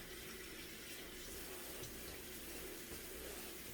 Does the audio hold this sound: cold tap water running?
yes